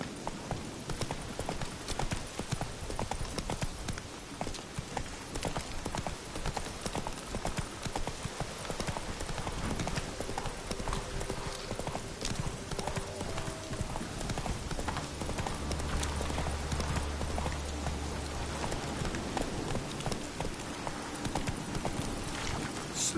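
Roach the horse trots along in The Witcher, steady clip-clop hoofbeats repeating without pause over a soft game backdrop, with a brief whinny-like tone partway through.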